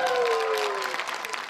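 An audience claps at the opening of a young viewers' film festival in Poland, a dense burst of applause with a voice sounding over it at the start.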